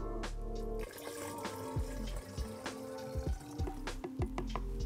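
Water poured from a container into the tank of a battery-powered car-wash foam sprayer, with gurgling, splashing and irregular glugs and drips heard close up and alone.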